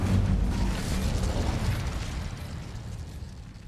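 Incendio fire spell cast in a wizarding-school adventure game, a burst of roaring, crackling flame that starts loud and slowly tapers off, with no voices over it.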